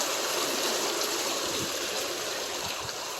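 Storm water from Hurricane Helene drains steadily into a drain and on toward a creek bed in Athens, Georgia, a constant rushing, gurgling flow heard close and fairly loud without letup.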